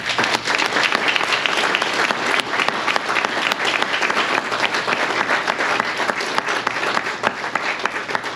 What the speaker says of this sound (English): Another round of applause to everybody out there.